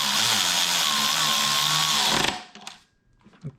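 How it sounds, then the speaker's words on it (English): A power tool drives a bolt into a BMW N55 engine during a rebuild, a loud steady high whir for about two seconds that cuts off abruptly, followed by faint handling clicks. "screw the bolt in."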